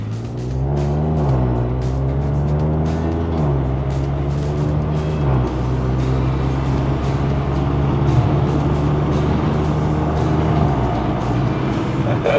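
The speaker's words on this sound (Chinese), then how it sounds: "DCT 跟 exhaust 的配合，2号档起步。" Tuned 178whp Proton S70 with a DCT gearbox and aftermarket exhaust pulling away from second gear on a mountain road, engine droning low and steady with rising pitch, gear changes and exhaust crackle, heard from inside the cabin.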